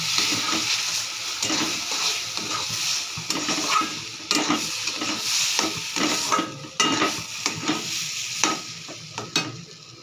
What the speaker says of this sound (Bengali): দিয়ে দেব এই দুধটা। দিয়ে নাড়তে থাকবো।